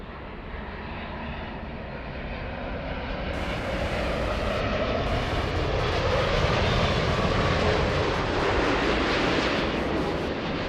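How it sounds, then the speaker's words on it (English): A United Boeing 787 arriving from Narita on final approach produces a broad, steady jet roar that swells gradually as it draws nearer and holds loud, with no voices. "Let's go for the 787 on final approach. United 33 flying in from Narita."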